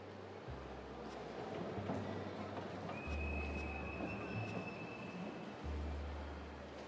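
Train running on rails, with a low steady rumble and clatter, a faint wheel squeal partway through, and muffled thumping throughout, no voices.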